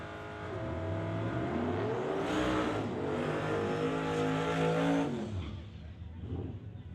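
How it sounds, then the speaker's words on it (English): A 1986 Mercury Marquis wagon and a 1992 Fox Body Mustang launch in a drag race, their engines roaring loud and close with rising, stepped harmonics through several gear changes before fading after about five seconds. "His 1986 Mercury wagon up against William Wood out of Langley in the 1992 Fox Body"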